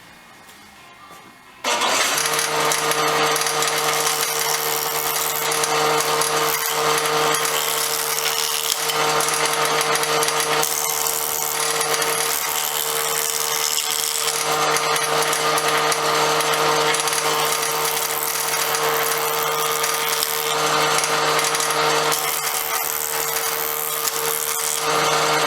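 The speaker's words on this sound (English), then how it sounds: "I got this little piece of pallet wood here, and it's all rough, and we're going to run it through here" Wood jointer planing a rough piece of pallet wood: a loud motor whine with a steady hum, starting abruptly and cutting continuously for over twenty seconds, close and alone without speech.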